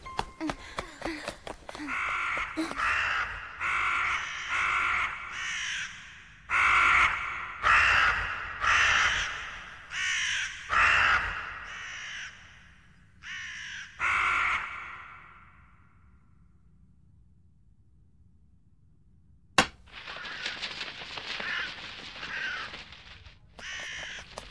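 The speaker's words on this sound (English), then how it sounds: "I hate crows!" Crows caw in a run of loud, harsh calls, several in quick succession with short gaps, then a pause, a sharp click, and another burst of cawing close by in an anime scene.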